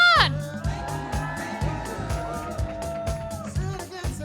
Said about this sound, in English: come on, guys, cheer them on